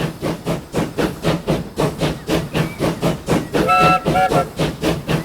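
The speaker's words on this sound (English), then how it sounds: "That is a lovely sound from this train." Rhythmic chuffing of a steam locomotive hauling a stone quarry train in the Transport Fever 2 game, loud regular exhaust beats about three per second with a steady hiss, and a brief whistle-like tone midway.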